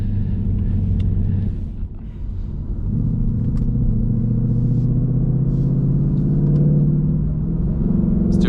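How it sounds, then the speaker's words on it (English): A 460 hp 2022 Ford Mustang GT with active exhaust rumbles loudly from the cabin, its deep engine drone dipping briefly and then rising again as the car pulls steadily. "just a little bit of something so you guys can hear the engine noise"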